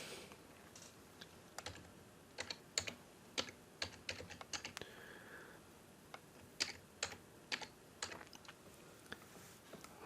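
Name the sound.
typing a database name on a computer keyboard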